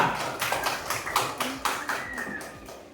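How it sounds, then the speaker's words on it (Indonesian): A classroom group claps briefly in a loose, uneven rhythm, individual hand claps standing out near and moderately loud over a noisy room. "Tepuk tangan dulu untuk kelompok 2."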